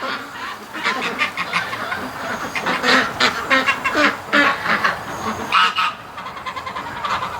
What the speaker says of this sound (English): Actually, more and more ducks are coming back. I think they're all coming back for a snack.